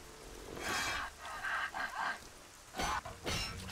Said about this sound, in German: Jetzt regnet schon wieder.